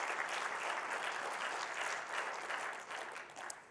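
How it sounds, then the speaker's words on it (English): Sustained audience applause at the close of a conference talk on Azure OpenAI, steady and broad for nearly four seconds, easing slightly toward the end with a few distinct claps. "Thank you for the round of applause there."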